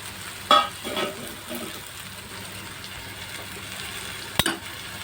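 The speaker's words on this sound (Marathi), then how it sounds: "छान परतून घेऊया." Roasted okra sautéed in a pan for Maharashtrian bhendi bhaji gives a soft sizzle with occasional scraping stirs and a sharp clack of the spatula near the end.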